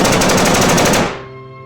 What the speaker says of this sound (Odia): ଏବେ ଗୁଳି ଫୁଟେଇବି।